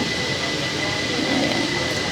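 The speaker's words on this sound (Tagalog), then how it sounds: "ito ay platform 1 from Hoyu Station ng MRT nila" Train noise at an MRT station platform in Kaohsiung, Taiwan: a steady, loud rumble and hum filling the whole moment, with a faint high tone running through it and no clear words.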